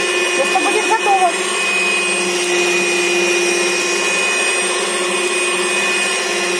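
An electric mixer whips sponge cake batter in a bowl, a steady whirring drone with a high whine running the whole time, briefly uneven near the start, then constant and fairly loud.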